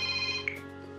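A telephone rings in a Polish TV drama scene, an electronic ringtone with steady tonal pulses at moderate volume and no speech over it.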